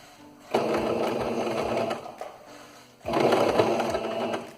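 A domestic sewing machine stitches a hem on a cotton dish towel, two close, steady bursts of rapid mechanical whirring and clatter separated by a short pause.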